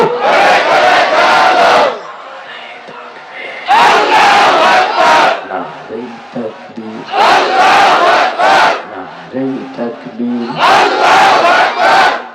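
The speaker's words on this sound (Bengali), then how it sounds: "আরেকটু জোরে, নারাই তাকবীর" A large crowd shouts a takbir chant in loud unison bursts, four roaring waves each lasting about two seconds, with a preacher's amplified voice calling the lines between them.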